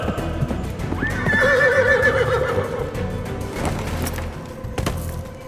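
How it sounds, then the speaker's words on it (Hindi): A horse gives a loud, drawn-out whinny that rises and wavers, while hooves clip-clop steadily underneath and a few sharper knocks follow near the end. "बहुत शानदार घोड़ा है ये।"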